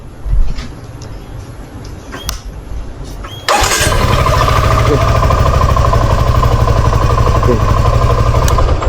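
A Suzuki V-Strom motorcycle fitted with a GPS tracker is started: a few quiet clicks and handling noises, then the engine catches abruptly and settles into a loud, steady close idle.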